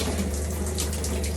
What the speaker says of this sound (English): wonderful hot shower. Piping hot.